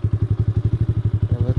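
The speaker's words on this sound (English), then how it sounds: "It will wheelie first and second gear, so let's give it another hit" A Honda CT70 motorcycle built up with a 125 engine thumps loud and close in a quick, even pulse as the throttle is opened for a top speed run.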